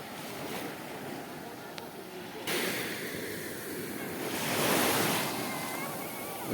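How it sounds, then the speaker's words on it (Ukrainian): Broad rushing surf as waves wash onto the shore, swelling louder midway, with wind buffeting the microphone. "Ось такі хвилі."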